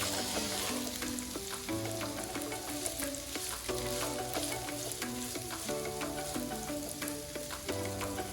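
Cooked beef for a steak roll fries steadily in a pan with a constant broadband sizzle and occasional stirring scrapes, partly masked by melodic background music playing throughout.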